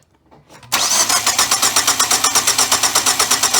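A car engine with a sticky piston ring cranks on the starter during a compression test, a loud, fast rhythmic chugging that begins abruptly after a brief quiet moment and continues evenly to the end.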